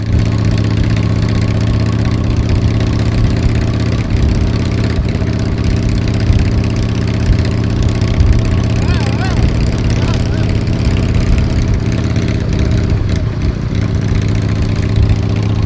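Custom Harley-Davidson hardtail motorcycle engine while riding a bumpy road, a loud, continuous low rumble with slight surges in revs, close to the microphone and mixed with wind.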